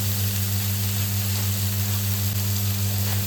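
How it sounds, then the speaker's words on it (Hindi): Mustard seeds, green chilli and onion frying in a pan give a steady, dense sizzle that holds level throughout, close and fairly loud under a low constant hum, with no talking. "थोड़ी सी सरसों डाल दी है और इसके साथ ही हमने हरी मिर्च और प्याज भी डाल दी है। अब इसको अच्छे से भूनेंगे।"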